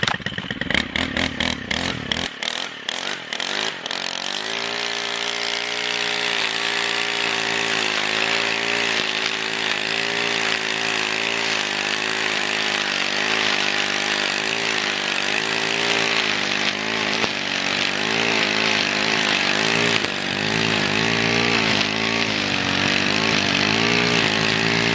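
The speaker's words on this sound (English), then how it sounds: "We're going to try that ornamental grass or pampas grass, however you want to look at it, with the Stihl FS100RX with the Black Diamond line." A Stihl FS100RX string trimmer fitted with Black Diamond line revs up and cuts through ornamental pampas grass, a loud, steady, buzzing engine whine that fluctuates as the line chews through the stalks, close and continuous with no talking.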